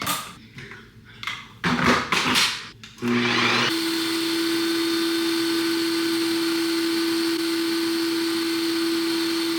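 A Ninja Creami ice cream maker spins up after a few clattering setup clicks, then settles into a loud, steady motor whine that runs without a break to the end, close by with no talking.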